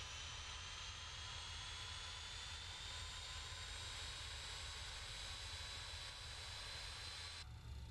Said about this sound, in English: Very good engine sounds.